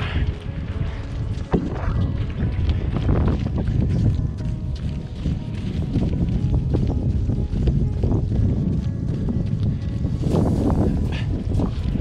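Steady wind roars and buffets the microphone throughout during a coastal trail run, a constant low rumble with occasional gusts and no clear speech.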